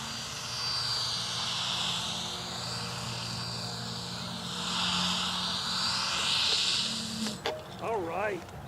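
A HobbyKing RC paraglider runs at full throttle, its small electric motor whining steadily overhead for several seconds, then dropping away near the end as people's voices break in.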